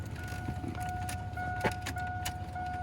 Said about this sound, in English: I heard the fuel pump kick on.